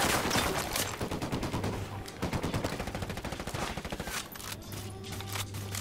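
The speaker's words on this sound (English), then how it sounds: "Oh, they got a PKP in that house." Sustained bursts of PKP machine gun fire in a Modern Warfare match, loud and close, with rapid continuous rounds mixed with other gunshots throughout.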